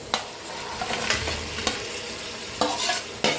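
Fish heads sizzle in a hot pan while being stirred for a Bengali muri ghonto, with a steady frying hiss broken by several sharp scraping stirs, close and with no voices.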